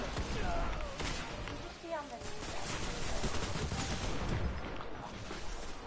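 Rapid gunfire bursts from a Destiny Inferno Control match crackle continuously beneath game announcer sounds, with a player talking over the dense, loud battle noise.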